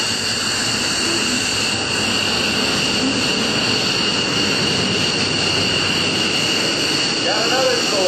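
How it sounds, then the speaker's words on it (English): Yak-9 warbird flying past at an airshow, a loud continuous engine roar that holds steady for the whole stretch, close by with broad noise and no break. "Sean Carroll comes by once again in Allison Powers Yak 9 with one of the most beautiful paint jobs ever"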